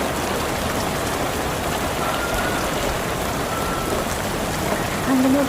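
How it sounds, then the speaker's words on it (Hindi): Hail pelts a rooftop in Delhi NCR during a cold-weather rainstorm, a steady dense loud hiss of countless impacts throughout, with a brief tone near the end. "हमारी छत में ओले कर रहे हैं।"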